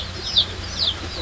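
A chicken at a farming family's home in Kuranji gives two short, high clucks spaced about half a second apart, fairly close, over a low steady background hum.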